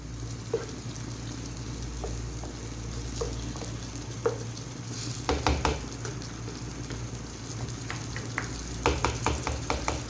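Chicken frying in oil and masala for dum biryani sizzles steadily up close, punctuated by occasional scrapes and clinks of stirring in the pot, with no talking.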